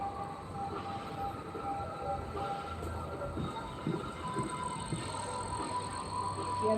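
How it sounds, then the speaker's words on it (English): A distant CSX freight train rumbles steadily, with a low continuous drone and faint metallic tones carrying over a long stretch. "that CSX train's got a block on him"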